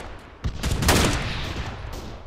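Gunfire in the military shooter game Arma 3, with 7.62 and 5.45 rifle calibres in use: a close, loud burst of several rapid shots followed by a booming echo that rolls away.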